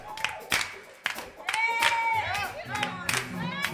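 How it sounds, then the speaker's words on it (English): Scattered hand claps from a congregation at an Easter sunrise service, a few sharp claps standing out amid music and singing voices. "Everybody clap your hands."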